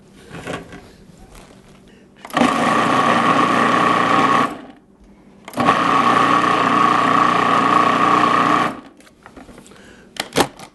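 A food processor chops mushrooms in two loud, steady whirring bursts of a few seconds each, with quiet handling noises and clatter between and after them.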